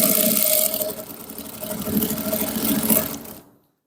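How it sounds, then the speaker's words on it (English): A sewing machine top stitching along the folded hem of a pair of men's shorts, a close continuous motor whir with a steady needle rhythm that slows briefly, then runs again before stopping abruptly. "You top stitch all through."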